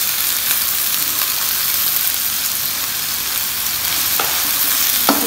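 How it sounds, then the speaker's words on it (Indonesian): Genjer (yellow velvetleaf) greens stir-frying in a pan give a loud, continuous close sizzle with a few faint clacks, and no voices. "Kita tumis sampai lemas ya guys."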